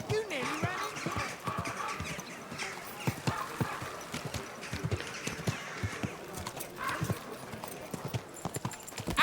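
Horse hooves clip-clop steadily and close in the medieval RPG Kingdom Come Deliverance 2, a brisk, uneven run of sharp clattering hoofbeats over a busy background of town ambience.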